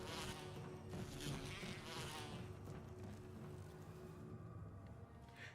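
Bees buzzing in the Resident Evil remake, a steady insect drone with no talk that stays fairly even, then thins out near the end.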